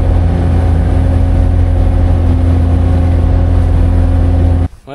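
Skid loader engine idling steadily up close, a loud continuous mid-pitched drone with a low hum that holds for nearly five seconds before cutting off abruptly.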